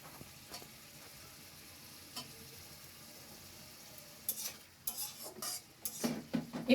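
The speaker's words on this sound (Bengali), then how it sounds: "পেঁয়াজের সাথে আলুটা একটু ভেজে নিব।" Potatoes frying with onions and green chillies in a pan, a low sizzle under scattered clinks and scrapes of a utensil stirring, busier toward the end.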